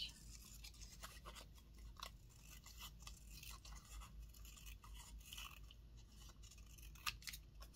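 Scissors snip and rasp repeatedly at close range, a steady run of small crisp cuts with no talking.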